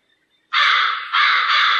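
A crow gives two loud, close, harsh caws back to back, each drawn out, against near silence.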